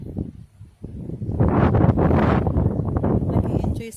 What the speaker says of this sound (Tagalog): Nakaka-relax yung hangin. At saka yung beauty ng ng hangin na lumilipad doon sa puno.